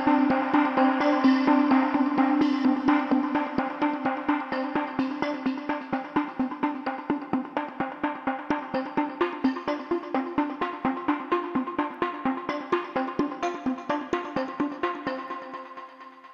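A Reason Malstrom software synth runs an arpeggiator at slow time values, giving a steady stream of evenly spaced, tonal plucked notes with a sustained bed underneath. It plays alone with no voices and fades slightly toward the end.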